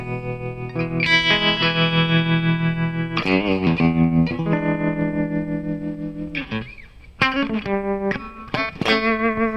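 Electric guitar through a Flamma FX150 multi-effects processor in stereo, sustained chords and bends with chorus and echo shimmer, then sharper picked notes toward the end.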